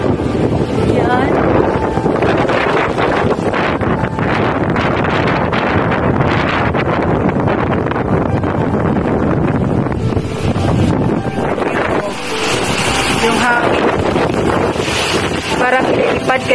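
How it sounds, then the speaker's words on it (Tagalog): Heavy typhoon wind during a Signal No. 8 storm in Hong Kong buffets the microphone nonstop, a loud, rough roar with gusting surges, while a voice is faintly heard beneath it. "napakalakas ng hangin"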